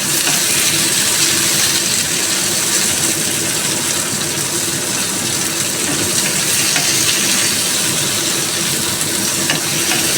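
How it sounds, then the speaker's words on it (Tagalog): Chopped tomatoes hit a pan of onion and garlic already sautéed until translucent, giving a loud, steady sizzle of frying throughout, with faint stirring scrapes and no talking. "Pwede na natin ilagay ang ating kamatis."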